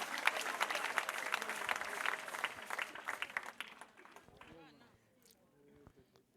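A church congregation at an ADEPR prayer service claps loudly and densely for several seconds, and the clapping then thins out and fades, with voices mixed in.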